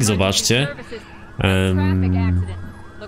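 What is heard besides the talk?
ambulance siren during a chase in Driver San Francisco video game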